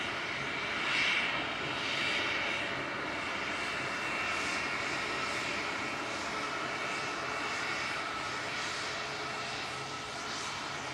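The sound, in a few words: EasyJet airliner arriving at Manchester Airport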